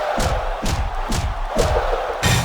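A capacity crowd roars in a wrestling arena in the SvR video game, loud, dense cheering with rhythmic pulses of chanting rising and falling about every half second.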